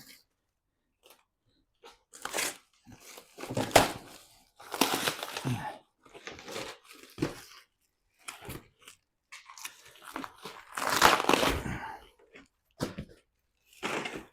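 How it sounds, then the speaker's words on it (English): Styrofoam packing blocks come away from a Ford Bronco bullbar being unboxed, in bursts of loud squeaky creaking and crunching with quiet gaps between them. "1 more of these styrofoam"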